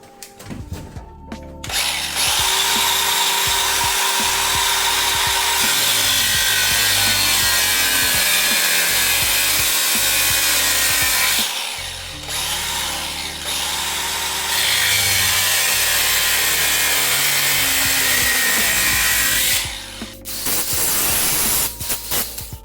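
A power saw cuts through the body of a Lotus Elise to make room for a K-Series shifter, with a loud, harsh continuous rasp that dips in two brief pauses before resuming, heard up close.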